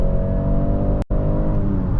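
A 2023 BMW X3 30e plug-in hybrid with a 2-liter turbocharged engine accelerates hard in sport mode, its loud steady engine drone heard from inside the cabin, broken by a brief pause as a gear shifts.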